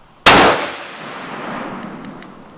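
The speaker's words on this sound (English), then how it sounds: "He's shooting mine now." A single sharp rifle shot fired at a target outdoors on a dirt hill backstop, loud and close, followed by a decaying echo and faint background ambience.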